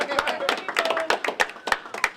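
Supporters clapping at a candidate's filing for a governor's race, with steady rhythmic claps at close range and voices cheering over them.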